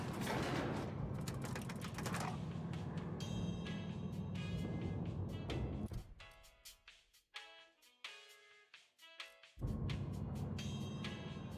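Elevator riding in the video game Outer Worlds: a steady mechanical rumble and whir that drops out briefly, leaving sparse clanks and creaks, then the hum returns, with game music faintly underneath.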